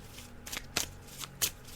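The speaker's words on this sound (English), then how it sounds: "Brian, I'm going to shuffle the cards now" Playing cards being shuffled by hand, a few crisp riffling bursts with short pauses between them, close and fairly quiet.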